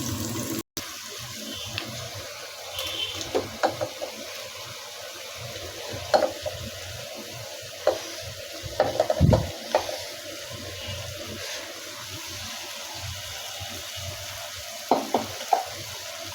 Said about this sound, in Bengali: কচুটা হাফ দিয়ে মিশিয়ে নিব ভালো করে।